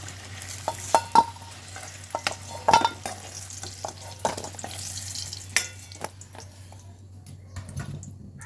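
Raw jackfruit pieces frying in oil in a pan after the potatoes, with a low sizzle under scattered clinks and stirring scrapes, fairly quiet and close with no talking.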